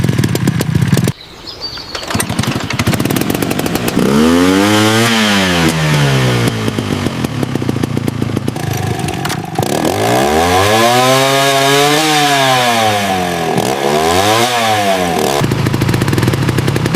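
Small two-stroke engine sputters to life, then revs up and down in rising and falling waves, loud and close throughout.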